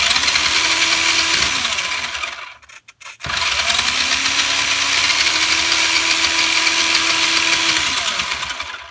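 A vintage Kyosho Outrage MKII RC car motor whines loudly and steadily up close, revving through its gears with a rising pitch, then cutting out briefly around the middle before spinning up again and holding a sustained high whir.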